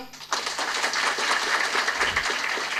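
An audience at a Thai business network event for Giffarine applauds steadily and densely throughout, a sustained wash of clapping from many hands after the speaker's greeting.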